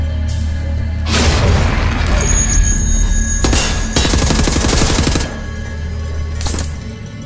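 Gunfire in the shooter Wolfenstein: The New Order crackles loudly in dense, sustained bursts. Heavy booming shots pile up, then a brief lull falls before another burst near the end.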